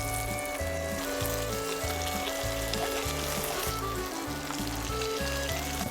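Veal cutlet frying in hot oil in a pan, a loud steady sizzle and crackle running throughout under a rhythmic low background thump, with no talking.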